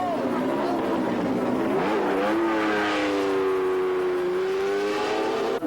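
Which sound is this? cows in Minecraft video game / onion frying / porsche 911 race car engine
porsche 911 race car engine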